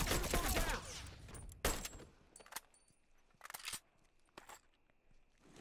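Automatic gunfire in a one-on-one match of The Last of Us: a few short, sharp bursts and cracks separated by quiet gaps, fairly faint overall, with no talking.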